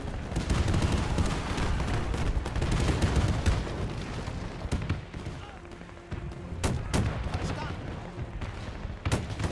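Tank cannon fire in the Men of War II tech test, with an IS-3 tank in the fight. A dense, steady roar of battle carries sharp, booming shots that stand out clearly near the end.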